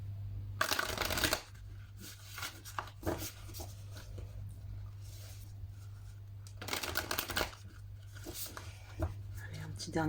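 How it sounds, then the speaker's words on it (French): Tarot cards riffled and shuffled by hand in two brisk bursts, near and crisp, with quieter handling between over a steady low hum. "Allez, un petit dernier shuffle et c'est parti."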